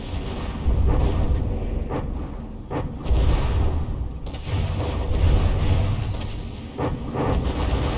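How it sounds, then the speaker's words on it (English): Heavy battleship gun salvos in a naval game battle, deep booming blasts rolling over a constant low rumble of combat, several thumps spaced a second or two apart with no talk. "Oh, but not all the guns on the Rising are actually firing at the moment."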